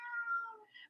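A cat lets out a single drawn-out meow, close and clear, sliding down in pitch before a brief higher upturn at the end, with no talking over it.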